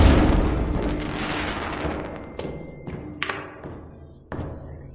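Flare gun shots in the Animal Company video game: a loud boom with a decaying rumble, followed by a few sharper bangs and thuds spaced over several seconds.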